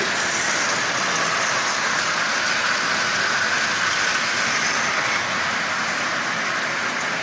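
Marx 400 micro motor toy train engine with headlight pulling a string of 20 Marx cars, giving a steady, continuous whirring and rolling hum close by with no talking.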